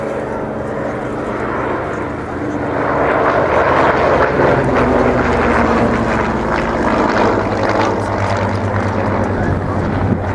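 A Spitfire flies a display at the RAF Cosford air show, its propeller engine droning loudly and steadily and swelling as it passes, with a voice speaking over it.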